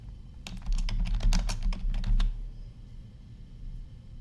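Brisk run of computer keyboard keystrokes, close and clear, about two seconds of steady typing with no talk, then the room falls quiet.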